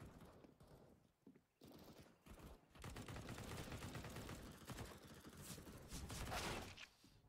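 Rapid bursts of gunfire from the game Counter-Strike: Global Offensive, dense and continuous through most of the stretch after a short quieter start, with no talking over it.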